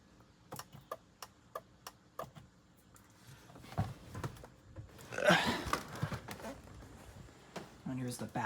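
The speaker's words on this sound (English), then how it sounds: "Oh, and here's the turn signal sound." A car's turn signal ticks in a steady, even rhythm, faint and close inside the cabin, before a voice speaks and some rustling handling noise covers the ticking.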